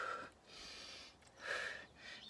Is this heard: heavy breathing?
yes